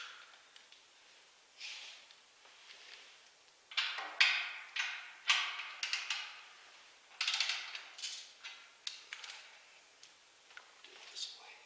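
A torque wrench tightens the nut on a receiver hitch being installed on a C10 Squarebody truck, torqued to 110, making a series of sharp ratcheting clicks in uneven bursts, close and fairly quiet.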